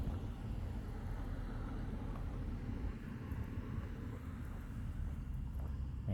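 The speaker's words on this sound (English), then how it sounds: "I didn't like the way that car cruised by that slow." A car cruises slowly past on a street, a low steady rumble that holds at an even level throughout.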